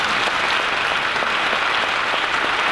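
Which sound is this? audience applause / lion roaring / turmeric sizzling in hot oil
audience applause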